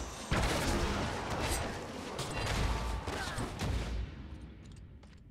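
Kael'thas's Pyroblast fireball in the video game Heroes of the Storm bursts with a loud, booming explosion layered with crackling battle effects, rumbling on for several seconds before trailing off.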